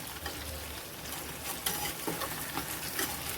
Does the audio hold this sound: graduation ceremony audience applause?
no